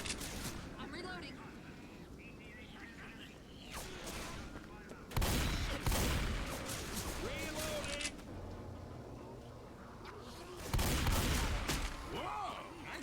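Gunfire from a Left 4 Dead 2 match on the No Mercy campaign in Expert Realism mode, with two loud bursts of shots standing out over a busy game soundscape while voices talk throughout.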